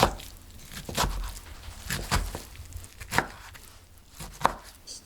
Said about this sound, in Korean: 시래기는 썰어서 준비합니다